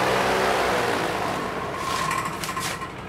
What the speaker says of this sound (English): Can't hear anything with this fan.